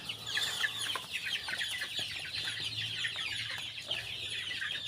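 Hens and chickens cluck around a farmyard coop, a busy overlapping chorus of soft clucks and chatter with no voices, continuous throughout.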